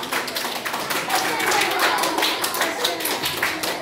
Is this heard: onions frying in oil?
no